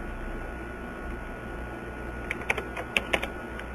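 A computer keyboard being typed on, a short burst of several sharp keystrokes arriving in quick irregular succession after a quiet stretch, heard close and clear over a faint steady background hiss.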